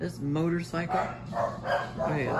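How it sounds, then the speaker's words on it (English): Dogs bark and yip nearby while a person talks over them. "sorry, excuse my dogs"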